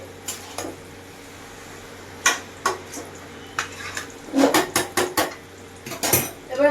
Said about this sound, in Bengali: তো এইভাবে আমি চিকেনটাকে একটু মিক্সড করে নেব খুব সুন্দর করে